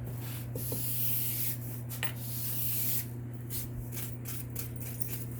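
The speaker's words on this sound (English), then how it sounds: "take the sandpaper and just sand it all in one direction" Sandpaper rubs along the rough cut edge of a leather belt in repeated one-direction strokes, giving a soft, close scratching over a steady background hum.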